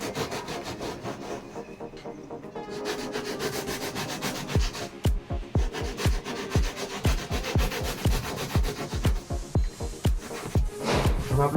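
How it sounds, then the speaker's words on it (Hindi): A fine saw blade cuts down along a shape in a hand-cut piece, first with a softer rasping stroke, then a run of loud, rhythmic back-and-forth strokes close by. "तो उसके लिए वही प्रोसेसर आरी का पत्ता जो हमारे टूल में मैंने आपको बताया था कि आपको यूज़ होगा"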